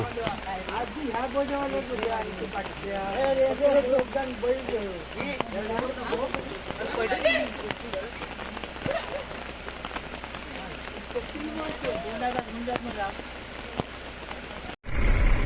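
Continuous monsoon rain patters on a surface while people talk and a vehicle hums underneath, on a village road in Konkan.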